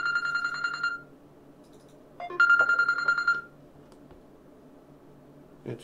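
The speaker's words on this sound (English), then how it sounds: "sorry about the phone call" A phone rings with an incoming call, a loud electronic ringtone in two bursts separated by a quieter gap, close by over a faint room hum with no talking.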